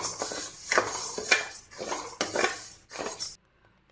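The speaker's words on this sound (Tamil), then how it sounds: "கடாயில் ஜவ்வரிசியை போட்டு கொஞ்சம் வறுக்கணும்" Sago pearls are roasted in a kadai over medium heat, with a metal spoon scraping and clinking against the pan in repeated close strokes. The stirring runs without talk and stops abruptly.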